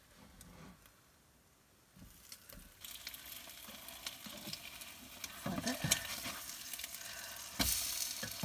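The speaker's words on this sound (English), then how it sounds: "You want to make sure you cook both sides of the bread real good." Batter-soaked French toast fries in a pan, starting as a quiet crackle and building into a louder, busier sizzle with occasional sharper bursts of spatter.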